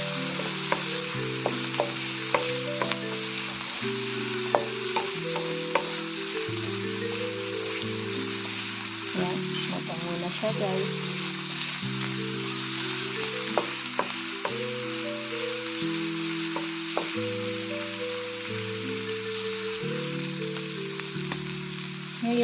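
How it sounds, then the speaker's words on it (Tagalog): Ground beef fried with peppers in a pan gives off a continuous crackling sizzle, broken by frequent short spatula clicks. A steady tonal melody of background music plays throughout, close and even in level, with no speech. "Hahaluin lang natin siya para maluto."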